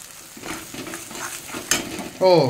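Dry red chilli tempering crackles in white oil and ghee, then a batter mixture is poured in, setting off a sudden louder burst of sizzling with stirring scrapes near the end.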